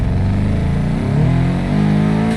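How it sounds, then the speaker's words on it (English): A rally car's engine revs hard and steadily, its pitch climbing in stepped surges as it pulls away on a rough track after clipping a rock with the rear tire. Loud and close, with no talk over it. "Car sounds great now."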